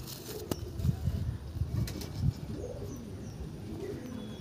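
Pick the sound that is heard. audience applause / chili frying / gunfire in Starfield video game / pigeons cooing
pigeons cooing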